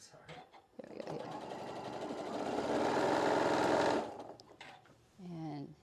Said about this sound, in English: sewing all the way across the other side, and then back tacking on that side too